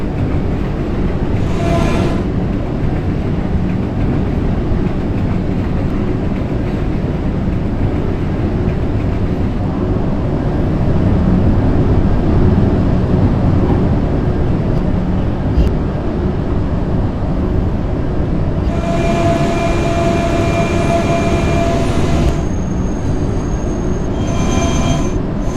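A PST-2R subway train in a video game rumbles along the PTA 5th Avenue line, a steady loud drone of running wheels and motor with a couple of brief higher hisses.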